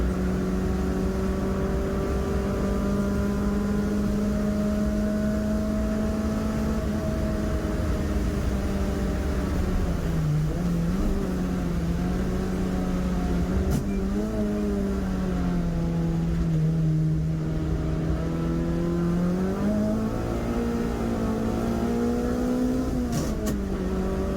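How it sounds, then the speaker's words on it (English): Saloon race cars on a wet track, engines droning steadily at a distance with rising and falling pitch as they accelerate, shift gears and spin their wheels, a continuous motor hum throughout. "A little bit of wheel spin coming out onto the front straight."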